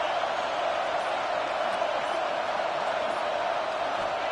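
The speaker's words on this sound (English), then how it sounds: "this crowd is fired up. Listen to this noise here." A stadium crowd in the College Football 26 video game sends up a dense, steady roar of noise at a constant level, with no single cheer standing out.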